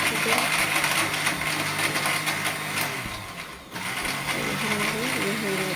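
A kitchen blender whirs at high speed as it mixes a mango, banana and milk shake, a loud continuous mechanical drone that dips for a moment and then picks up again, with someone speaking over it.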